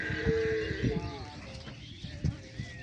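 Dairy cows and pregnant heifers at a large cattle farm low and moo in a few drawn-out calls near the start, with a busy barn background and a voice talking alongside.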